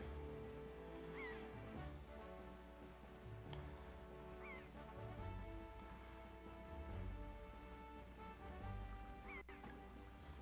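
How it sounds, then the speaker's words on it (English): Seagulls calling in The Legend of Zelda: The Wind Waker, several short squawking cries scattered over a soft steady game ambience, fairly faint and without talk. "Oh, there's where all the seagulls are."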